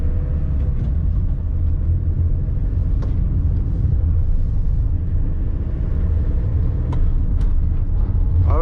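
A tow truck drives along the road, giving a loud, steady engine and road rumble from inside the cab, with a few faint clicks and knocks over the drone.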